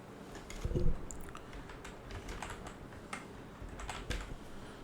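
Soft, quick keystrokes tap on a computer keyboard while a name is entered, a faint irregular run of clicks close by with one heavier bump near the start.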